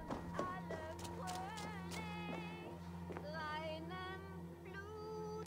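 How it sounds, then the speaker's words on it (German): A cat meows several times in Assassin's Creed Valhalla, drawn-out wavering cries over a steady low game hum, moderately loud and close, with no talking. "Definitiv Katze."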